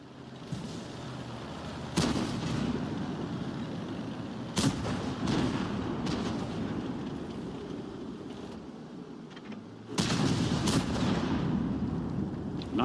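Tank cannon firing HEAT rounds in World of Tanks, several heavy booming shots spaced seconds apart over a rumbling engine and battle background, each blast loud and close with a rolling decay.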